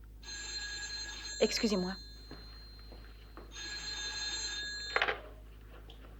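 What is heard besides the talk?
telephone bell ringing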